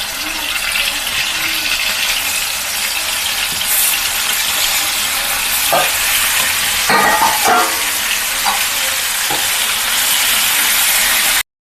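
Chicken pieces fry loudly with onions in a hot pan, a constant strong sizzle broken by several sharp stirring scrapes and clatters of the spoon before cutting off abruptly.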